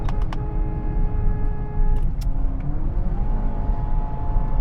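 A Mazda 2 Skyactiv-G hatchback pulls away with a close, steady engine hum whose pitch shifts as it moves off, along with a couple of sharp clicks and no speech.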